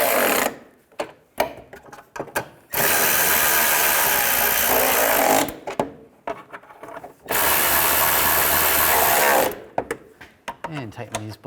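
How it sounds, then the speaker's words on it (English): Radiator nuts being tightened on a Volkswagen Beetle, two long bursts of loud, close, rapid mechanical whirring separated by clicks and handling noise, with someone speaking briefly between them. "And tighten these nuts up."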